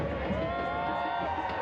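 Loud stadium crowd at a Pumas UNAM versus Deportivo Saprissa football match, a dense continuous roar with sustained chanting tones beneath a commentator's voice.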